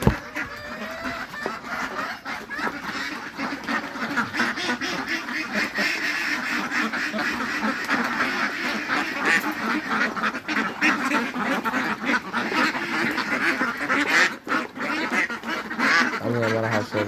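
Ducks on a duck farm quack continuously as a dense flock, loud and close, with overlapping calls throughout.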